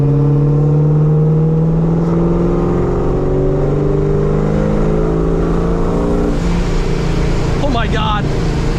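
Boosted New Edge Ford Mustang engine under acceleration from inside the car, with a loud, steady drone that climbs in pitch as it revs up and then shifts near the end.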